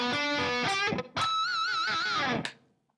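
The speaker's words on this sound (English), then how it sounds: "I'm going to give it a nice pinch harmonic with some wide vibrato." A squealing, high-pitched harmonic on a distorted electric guitar, held with a wide, wavering vibrato before cutting off.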